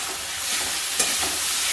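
Chopped tomatoes hit hot oil in a pan while cooking a vegetarian ghugni, giving a loud, continuous sizzle with stirring scrapes and a brief clatter partway through.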